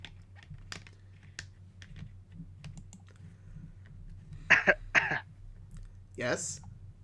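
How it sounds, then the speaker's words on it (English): A few short, sharp coughs sound close to a microphone during a podcast stream, set against quiet keyboard typing and clicking with a low steady hum. "I'm just coughing."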